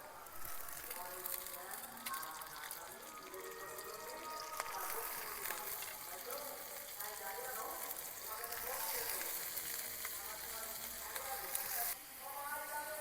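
Carrots and onion stalks fry in a pan with a soft, steady sizzle and a crackling hiss that comes and goes quietly, while a person speaks over it.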